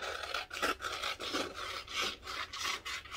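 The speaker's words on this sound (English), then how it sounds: "I'm going to cut out my new altered neckband pattern piece." Scissors cut out a fabric neckband pattern piece in a series of close, soft rasping snips that come in irregular bursts.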